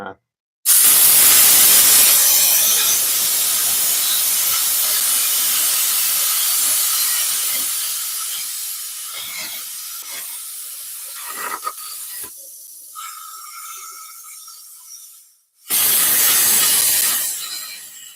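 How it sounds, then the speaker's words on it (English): A plasma cutter slices through limousine body metal with a loud, sustained hiss that gradually thins and tapers off, stops briefly, then a second loud hissing burst starts. "there is a chunk cut out with the plasma cutter"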